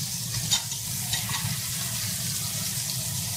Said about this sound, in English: They're doing what the scallops like to do, just to get nice and fried.